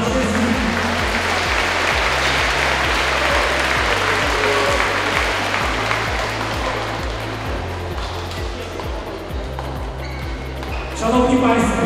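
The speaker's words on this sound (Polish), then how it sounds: "Gorące brawa dla wszystkich." Sustained audience applause fills a school wrestling championship ceremony in Poland, steady and dense throughout, with a loud repetitive rhythmic thumping beneath it and a brief swell near the end.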